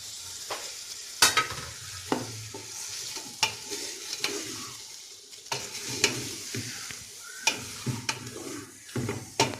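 Beef karela curry stirred and frying in a pan with tomatoes, chillies and lemon, a steady close sizzle broken by repeated sharp scrapes and clinks of the spoon against the pot.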